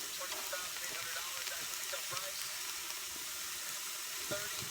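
Steak frying in a worn pan for a sub sandwich, giving a steady close sizzle with soft crackles throughout.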